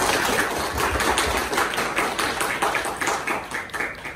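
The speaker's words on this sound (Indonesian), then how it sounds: "Tepuk tangan buat mereka." Crowd applause from an audience at a product training event, a dense continuous patter of many hands clapping, steady and moderately loud for a few seconds without speech.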